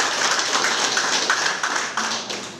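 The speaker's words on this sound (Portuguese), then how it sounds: "Uma salva de palmas," A wedding ceremony audience applauds, a brisk, fairly loud wash of hand claps that keeps going and fades slightly toward the end, with no voices over it.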